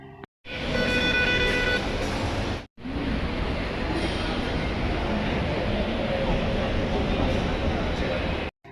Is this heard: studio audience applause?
no